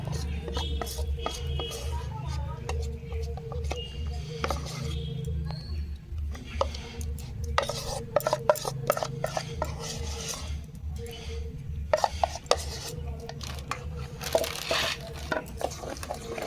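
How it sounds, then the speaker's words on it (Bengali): Palm fruit batter mixed with rice paste by hand in a bowl, giving steady close squelching and rubbing with occasional utensil clinks over a low constant hum. "সব কিছু উপকরণ দিয়ে দিয়েছি ভালো করে মেখে নেবো"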